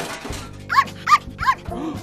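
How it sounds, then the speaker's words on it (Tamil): A dog barks from a cassette played inside a robot in an animated film: three sharp, evenly spaced barks over a low humming background. "அதை மாத்திட்டு இன்னொரு கேசட் போட அது நாய் குறைக்கிற சவுண்டாக கேட்குது"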